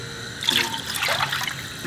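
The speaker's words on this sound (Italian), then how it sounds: "Quindi intanto mettiamo un bel po' di acqua." Water pouring from a tap into a cooking pot being filled for boiling pasta, a bright splashing gush that starts abruptly and runs on steadily, close and alone.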